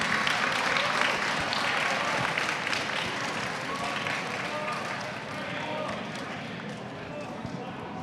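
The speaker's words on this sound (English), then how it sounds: "Can we have a big round of applause for Group 4, the second runner-up in the competition" Applause fills a hall at a university robot design contest award ceremony for the second runner-up team, a broad wash of many hands clapping steadily throughout with some crowd voices and cheering mixed in.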